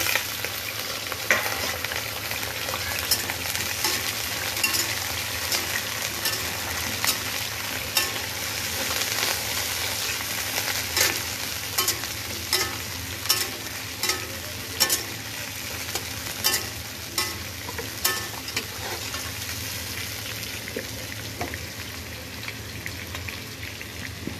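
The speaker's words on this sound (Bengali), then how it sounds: "এখন দিয়ে দেবো পটলগুলো, একটু ভাজি করে নেব" Pointed gourd (potol) fries in hot oil in a pan with a continuous loud sizzle, while a spatula stirs it with repeated sharp clicks and scrapes that come more often toward the end.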